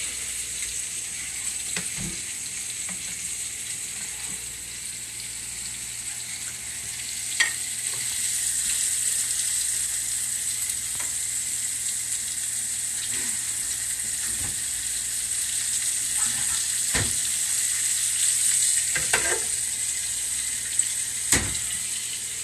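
Medallions sizzle steadily in a hot pan, a constant bright hiss with occasional faint clicks and knocks scattered throughout.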